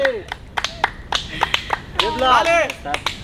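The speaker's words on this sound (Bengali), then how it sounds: "এটা করে করতালি হয়ে যাক" An audience at an entertainment fair claps in scattered, uneven bursts of sharp hand claps, mixed with people talking and calling out over them.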